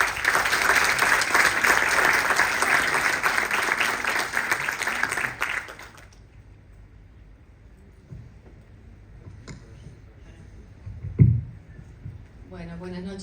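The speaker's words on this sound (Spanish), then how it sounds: "le pedimos un fuerte aplauso para ella." Steady applause from an audience at a book presentation fills the first six seconds, then stops abruptly, leaving quiet room noise with a brief thump near the end.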